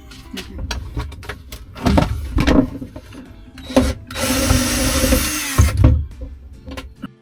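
A power drill drives screws into a caravan's BBQ boot slide in a cramped boot space, with short bursts of motor whine and rattling handling noises building to one longer sustained run near the end.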